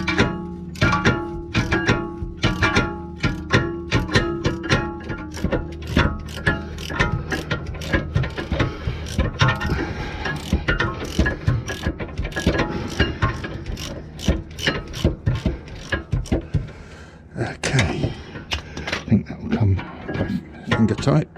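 A hand ratchet clicks rapidly and repeatedly while undoing a rear brake carrier bolt on a 2017 Jaguar XE 2.0 diesel, close and steady, slowing into looser bursts toward the end as the bolt frees up.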